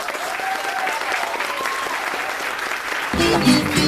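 A crowd claps at a student occupation gathering marking one month, a steady wash of applause that swells louder near the end as music comes in.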